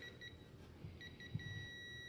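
A digital torque wrench beeps on reaching its set torque of 50 foot-pounds while the main bolts of an AMC Rebel SST are tightened, giving two short pairs of high electronic beeps, then a longer steady tone over faint workshop noise.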